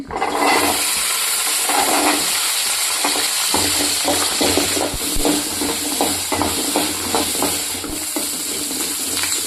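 Small onions and a couple of garlic cloves sizzle and crackle steadily in hot oil in a pan for fish sambar, with intermittent stirring and clinks of the spoon against the pan, continuous and close.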